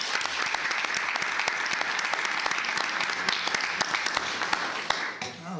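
A room full of people at a county commissioners' court meeting claps steadily in warm applause for a retiring county employee, sustained and dense before tapering off at the end.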